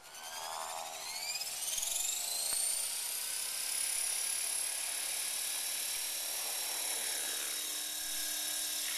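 EXI 450 RC helicopter in idle-up at about 2300 rotor RPM, spooling up with a rising whine and then holding a loud, steady high-pitched buzz and rotor hum in flight.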